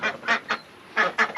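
Ducks quack in a muddy pen on moving day, a quick series of about six nasal quacks in two bursts, fairly close and with no talking.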